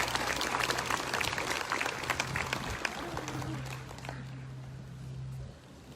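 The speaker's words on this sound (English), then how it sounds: "If you give her a round of applause for me," A crowd at an outdoor Black Lives Matter protest in Oviedo applauds a speaker with steady clapping and cheering that holds for several seconds, then trails off.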